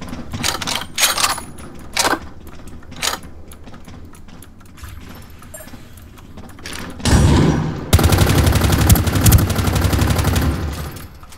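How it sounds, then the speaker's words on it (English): Ring of Elysium gunfire: scattered sharp single shots crack out in the first few seconds, then after a quieter stretch a louder, sustained burst of rapid fire with metallic clatter dominates the end. "I'm shooting the guy I downed in the ass."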